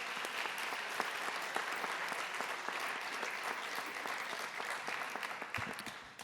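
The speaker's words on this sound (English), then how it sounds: "if I could have a round of applause for all the coaches out there" Sustained applause from an audience at a high school athletic awards ceremony, steady and fairly loud for the whole stretch, with the clapping thinning slightly toward the end.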